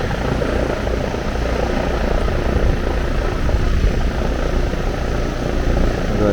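Lennox or Rheem heat pump outdoor unit running after kicking on, a loud steady whooshing fan roar with a deep droning hum, continuous and close.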